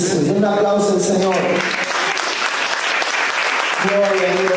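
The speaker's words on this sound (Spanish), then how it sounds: "Un aplauso al Señor." A church congregation breaks into loud, continuous applause, the clapping dense and close, with voices and singing audible at the start and end.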